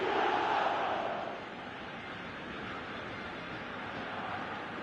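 Football stadium crowd in a video game roars loudly at first, then settles into a sustained, broad wash of cheering and murmur.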